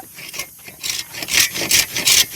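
Hand saw cutting wood in deep forest, with a rough rasping stroke sound repeating in bursts, four or five loud strokes close by, growing stronger toward the end.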